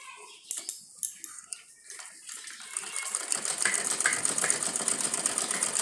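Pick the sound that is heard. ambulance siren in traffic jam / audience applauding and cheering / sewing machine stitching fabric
sewing machine stitching fabric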